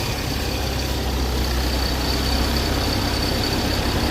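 An Infiniti G35 engine idles with a steady low drone and a faint, continuous whine from a worn crank pulley, heard up close with no talking.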